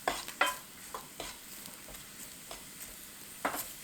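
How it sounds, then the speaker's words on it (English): Seasoned vegetables soften in a pan over moderate heat, giving a faint, soft sizzle broken by light scrapes and taps as they are stirred every second or so. "They're going to start to sizzle a little bit."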